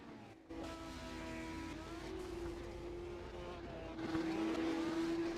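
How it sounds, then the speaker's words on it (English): Race cars doing burnouts at an off-season event at the LA Coliseum: a steady, sustained engine drone with a rising pitch and a louder surge near the end, under faint talk. "when these guys finish doing burnouts, we might be talking to a couple of them"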